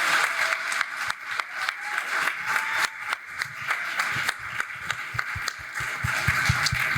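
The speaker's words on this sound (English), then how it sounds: "Please give them a round of applause." A symposium audience applauds steadily for several seconds, dense clapping with some louder individual claps, fairly close and without talk.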